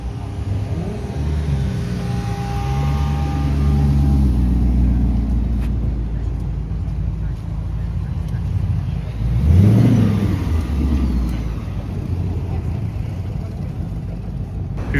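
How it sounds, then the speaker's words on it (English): A Mazda MX-5 fitted with a Jaguar engine rumbles loud and close at a car gathering, its engine rising through a deep rev around the middle before settling back to a steady growl, with crowd noise in the background. "Who doesn't love an MX-5 with a Jag engine?"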